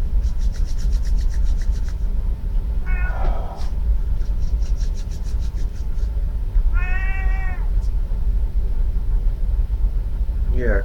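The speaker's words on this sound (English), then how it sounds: "Crazy cat." A cat meows a few times over a continuous low rumble, with clear, fairly close calls spaced apart and rhythmic rustling or rubbing sounds between them.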